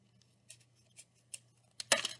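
Scissors snip through a CD in a quiet room: several crisp, evenly spaced cuts, then a louder cracking cut at the end.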